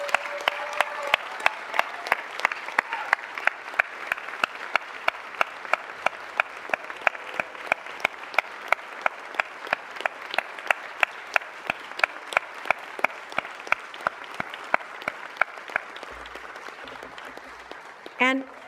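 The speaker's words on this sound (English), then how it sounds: "please, ladies and gentlemen, another round of applause for Ms." Applause at a city council meeting, starting as a full crowd clapping and thinning into sparse, sharp individual claps that continue steadily for a long stretch before a brief closing sound.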